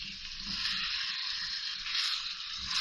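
Vegetables go into a hot frying pan of chicken macaroni with a continuous close sizzle and soft rustle of pieces shifting, steady throughout with no voices.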